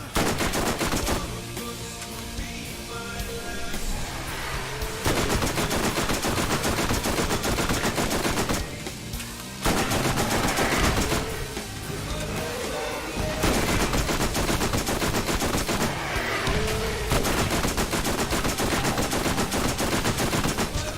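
Rapid automatic gunfire from a weapon in the video game Borderlands rattles in long, loud, dense bursts with brief gaps between volleys, carrying on steadily without talk.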